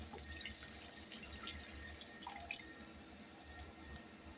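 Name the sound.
water being poured into cooked masala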